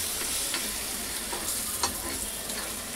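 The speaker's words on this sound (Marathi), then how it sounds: "आता त्याला पण मी मिक्स करून घेते. जसं जसं भाजत आलं तसं तसं" Ingredients are stirred while they roast in a pan, giving a steady hissing sizzle with a few light scrapes and knocks from the spatula, moderately loud and close, with nobody talking.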